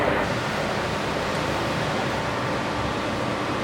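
A Norstrom standard power flush machine runs continuously, pumping sludge-laden water through a heating system: a steady, loud broadband rush like pouring water, even and unbroken throughout, with no voices.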